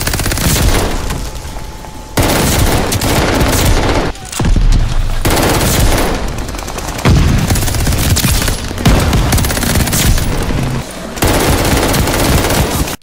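Rapid, sustained bursts of AS44 rifle hip fire in the Call of Duty Vanguard video game, loud and close, in long strings broken by brief pauses.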